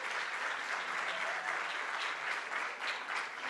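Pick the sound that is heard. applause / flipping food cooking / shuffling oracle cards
applause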